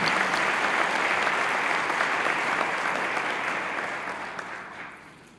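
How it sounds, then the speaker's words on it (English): An audience applauds for Bill Stacy at a campaign announcement event, a dense, steady round of clapping that stays loud for several seconds and then slowly fades. "Would you give him a round of applause?"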